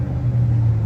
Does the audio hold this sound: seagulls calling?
no